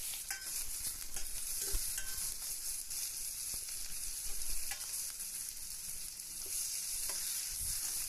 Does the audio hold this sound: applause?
no